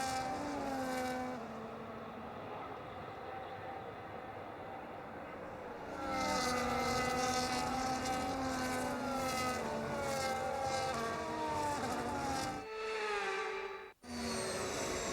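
Race cars in the F1 25 video game roll around on a formation lap, a steady layered engine drone with harmonic whine that swells louder midway and dips briefly near the end, with no talking.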